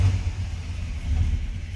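A 1968 Dodge Dart GTS engine runs with a deep, steady, throbbing rumble, close and loud, with no voices.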